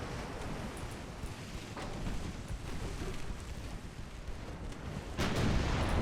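Muffled, distant naval gunfire rolls through a video game sea battle between Spanish and American warships, with scattered booms over a steady rumble and one louder blast near the end.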